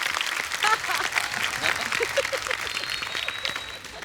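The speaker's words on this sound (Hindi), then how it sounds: "तो एक बार उनके लिए भी जोरदार तालियां" A crowd claps steadily for several seconds, a dense patter of applause while a voice speaks over it.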